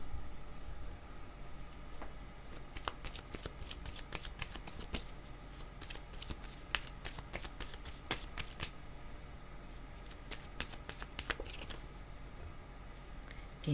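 Tarot cards being shuffled and drawn by hand, a quiet run of crisp riffling flicks and snaps that comes in bursts at close range, with no talk.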